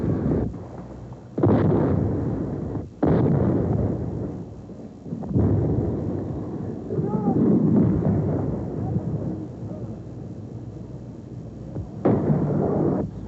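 Artillery rounds fire and explode on target in open ground near a wooded area, each sending a deep, heavy boom rolling across the landscape, several spaced blasts with long reverberant tails, loud and distant-sounding.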